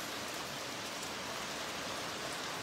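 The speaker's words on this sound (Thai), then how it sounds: "จะมีฝนตกโปรยปรายลงมา" Steady rain falls at the Wat Buddhapadipa Buddhist temple grounds in London, a dense, even hiss of drops on surfaces that continues unbroken and fairly soft throughout, with no voices.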